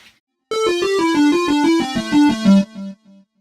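A synth keyboard patch with insert effects plays a quick run of bright, buzzy lead notes stepping downward for about two seconds, then ends on a sustained low note that fades out, loud and alone.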